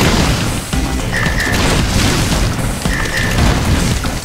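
Rocket blasts in the Super Meat Boy platform game, a dense booming crash that stays loud throughout with two short bright electronic blips, no talking.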